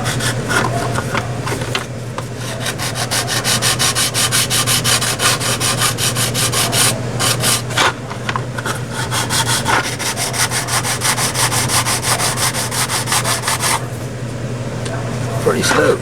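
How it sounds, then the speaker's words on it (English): A file board rubs back and forth across the edges of a resin model kit part in a steady, close scraping rhythm with brief pauses, while someone talks over it. "You sand these edges down, always use a file board for a file."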